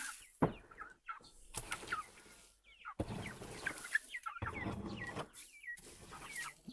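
Several hens cluck and chatter close by as they are let out to range, with short bursts of clucking and higher squawks scattered irregularly between brief quiet gaps.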